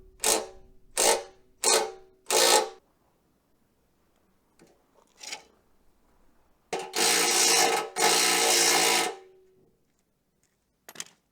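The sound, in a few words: impact driver removing nuts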